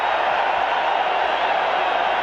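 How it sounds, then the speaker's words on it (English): Stadium crowd at a 1985 Green Bay Packers at Chicago Bears football game, a dense far-off roar of many voices chanting in unison, with no single voice standing out. "The crowd is chanting, "We want Perry.""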